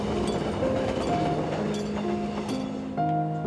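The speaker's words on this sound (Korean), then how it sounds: "기차는 오늘도 고향역을 향해 달립니다" A train runs along the single-track Janghang Line, with steady rolling rumble, metallic clinks and squeals, and a closer, louder stretch near the end.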